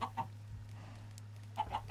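A chicken in the Minecraft video game clucks in two short bursts, one at the start and another near the end, over a steady low background hum, with quiet gaps between.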